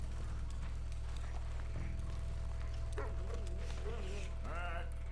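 A dog in Red Dead Redemption 2 gives a few short yips and whimpering barks over a constant low game hum and ambient drone, fairly faint within the mix.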